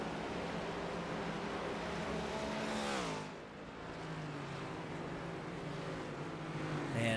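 Stock car engines roar past during a televised race, a continuous loud drone with a falling pitch sweep as one car passes near, then a steady field of engines continuing in the distance.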